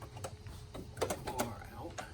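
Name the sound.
removing a 1 terabyte hard drive from a 2009 Mac Pro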